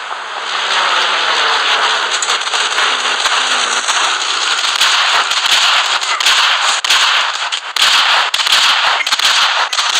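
Weapons firing during a video game battle, a dense, continuous barrage of crackling shots and bursts that stays loud for the whole stretch with no talking over it.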